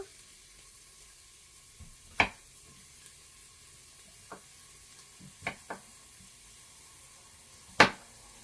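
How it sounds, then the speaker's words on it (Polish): A faint, steady sizzle of vegetables and mushrooms for lecsó frying in a Tefal Cook4me pressure cooker pot in sauté mode, broken by a few sharp clinks and scrapes from stirring at scattered moments. "Garnek już jest w trybie podsmażania."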